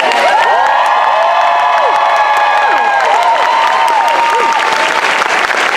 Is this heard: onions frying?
no